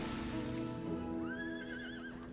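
A horse mount in Final Fantasy XIV gives a clear, rising and wavering whinny that lasts about a second over a steady hum of game music and ambience.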